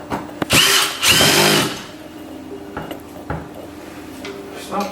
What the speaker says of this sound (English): Now I'm going to tighten that screws.